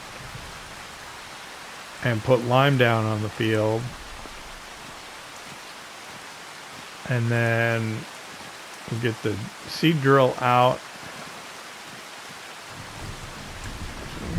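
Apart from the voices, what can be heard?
rain in video game Farming Simulator 25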